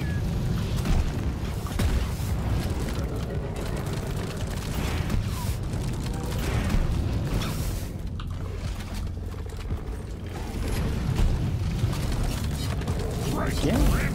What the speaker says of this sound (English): Now here comes the detonator.